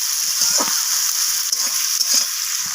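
Chopped tomato fries with onion in a pan, sizzling steadily and close, with a few soft stirring scrapes under the hiss.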